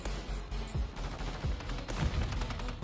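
Rapid automatic gunfire in Call of Duty: Warzone Mobile, hip-fired from a Skriker weapon, rattles in dense continuous bursts with sharp low thumps punctuating the stream, loud and close throughout.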